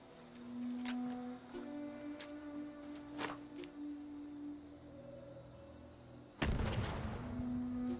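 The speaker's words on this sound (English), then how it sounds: "I'll throw a grenade at you." A grenade explosion in the Fallout video game bursts loud and broad-band near the end, following earlier sharp game gunfire cracks over a steady droning tone.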